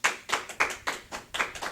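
Audience applause after a magic trick, heard as a loose run of separate claps in an irregular rhythm, fairly close and moderately loud, with no talking over it.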